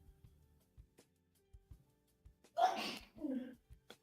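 A single sudden sneeze, followed by a short breathy after-sound, rises out of a quiet room with faint clicks and shuffles before it.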